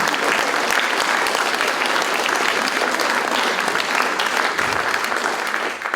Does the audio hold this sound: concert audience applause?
yes